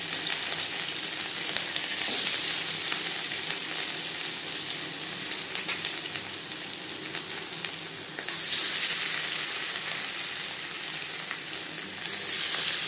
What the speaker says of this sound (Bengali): তিন চামচ সর্ষার তেল গরম করে নিয়েছি এবার দিয়ে দেবো ম্যারিনেট করে রাখা মাছ